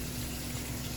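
Water running steadily from a kitchen tap, a continuous broadband hiss and splash close by, with no talking.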